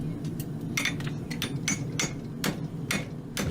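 Rhythmic hammer blows ring out on a concave hind riding-horse shoe being forged, about ten sharp metallic strikes at an uneven steady pace, close and clear with no talk.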